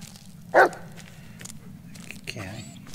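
Bullet the dog barks once, a single short sharp bark in the game Blair Witch, over a low steady ambient hum, followed by faint rustling and a voice speaking softly.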